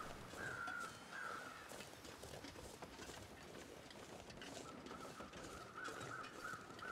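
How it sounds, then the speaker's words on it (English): Crows caw faintly in a video game, a couple of drawn-out calls early on, then a quick run of repeated caws near the end over soft background noise. "Yeah, I see the crows."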